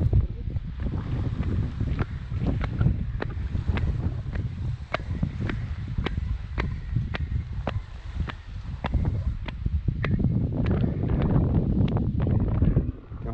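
Brisk east wind blows by the Helford River, buffeting the microphone with a constant rumbling roar and steady gusts, and faint regular ticks run through it.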